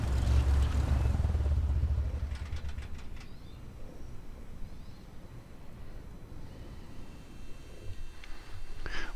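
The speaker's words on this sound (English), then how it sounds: "Let's shut the engine off." A bush plane's engine winds down after landing in Botswana, a loud low drone that fades to a quieter rumbling idle over several seconds with no talk.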